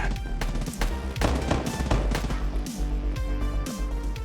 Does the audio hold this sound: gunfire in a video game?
yes